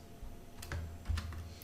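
Code is typed on a computer keyboard, giving a few faint, quick key clicks in a short burst at a close distance, with no voices.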